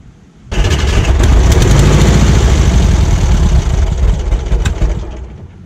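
Volkswagen Kombi engine catches abruptly after a quiet moment, then runs loud and rough close by with a dense, rumbling idle that eases slightly toward the end.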